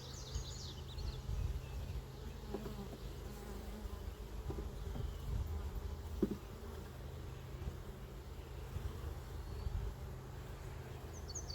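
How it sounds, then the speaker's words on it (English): Honeybees humming inside a garden hive, a constant dense buzz close by that holds steady throughout, with a few faint bird chirps in the background. "you just hear the humming coming from here."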